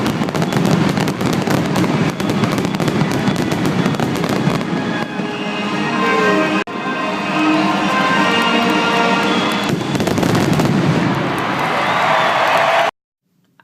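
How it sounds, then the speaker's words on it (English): Fourth of July fireworks explode loudly and continuously, a dense barrage of bangs and crackles with a distant crowd murmuring underneath, ending abruptly. "the 4th of July just really revolves around fireworks"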